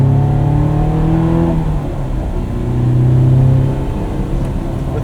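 A 2001 Honda S2000 engine with its intake cover on revs up loudly twice in quick, rising sweeps, then settles back to a smooth idle hum between pulls.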